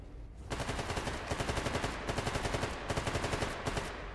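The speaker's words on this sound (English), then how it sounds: "He's shooting at somebody up there. Those loners." Rapid bursts of automatic gunfire from NPC loners in S.T.A.L.K.E.R. GAMMA, heard at moderate distance as repeated volleys with short gaps between them and no talk.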